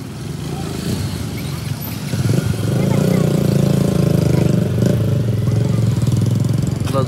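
Motorcycles idling together before a group ride of eight bikes, a low, throbbing engine rumble that swells louder partway through as more engines join, and stays close and continuous.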